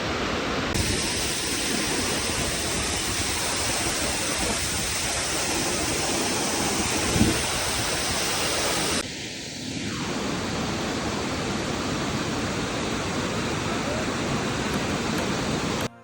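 Waterfall on the Shrikhand Mahadev mountain trek, a loud, steady roar of rushing water up close that fills the whole stretch, with a brief dip partway through.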